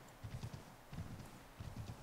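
Horse hooves pounding through deep snow in Assassin's Creed III, a rhythmic clip-clop in three quick bursts, fairly loud and close, with no talk over it.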